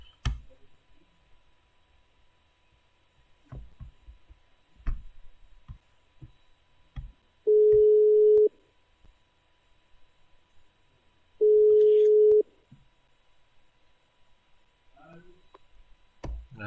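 Two long, steady ringback tones sound on an outgoing phone call, spaced a few seconds apart, with faint clicks and quiet room noise around them.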